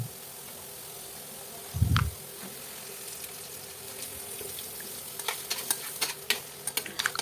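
Onion roasting in a pan on a low flame gives a faint, steady sizzle, with one dull thump early on and a scattering of light spoon clicks toward the end.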